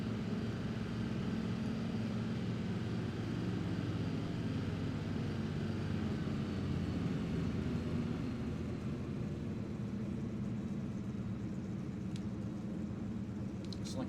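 Airplane engine in a video game droning steadily as the throttle comes up during a landing approach, a continuous low rumbling hum, fairly quiet and unbroken, with no talking.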